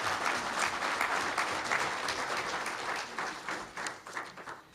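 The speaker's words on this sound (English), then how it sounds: "Let's give them a big hand of applause of appreciation" Many people at a State of the City address in Rocky Mount, North Carolina applaud city workers, a steady crowd-wide clapping a little distant in a large room, tapering off toward the end.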